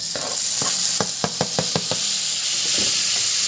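Onion, garlic and tomato sizzle in a hot pan, a constant frying hiss broken by a quick burst of spatula scrapes and clacks against the pan.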